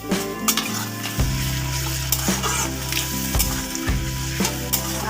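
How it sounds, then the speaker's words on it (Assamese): Finely chopped medium tomato sizzling and frying in a pan while being stirred, a steady loud hiss broken by repeated scraping strokes of the spoon, close up with no talking. "ভালকৈ মই লৰাই দিছোঁ।"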